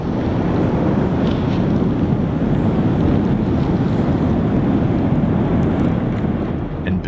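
A 260-foot lava fountain from Kilauea's 2018 eruption in Hawaii gives off a loud, unbroken, jet-like roar that stays steady throughout with no voices.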